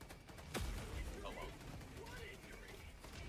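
Video game gunfire laying down covering fire during a fast firefight, a sharp burst near the start followed by a dense, continuous clatter of shots under a busy mix of other game noise.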